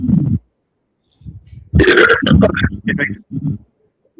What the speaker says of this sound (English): Just burped.